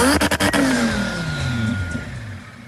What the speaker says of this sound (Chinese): 在临出发前，强子狠踩了几下油门给自己壮胆。